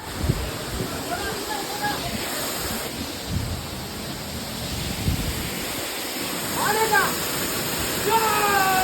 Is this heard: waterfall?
yes